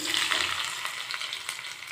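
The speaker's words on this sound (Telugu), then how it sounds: "కొంచెం ఆయిల్ తీసుకొని తాలింపు వేసుకోవాలి. దీంట్లో ఉల్లిపాయ, ఎండుమిర్చి, వెల్లుల్లి రెబ్బలు, కరివేపాకు, తాలింపు గింజలు" Onion, dried red chillies, garlic cloves, curry leaves and seasoning seeds frying in hot oil for a tempering, a loud, steady close sizzle with a few crackling pops and no talk.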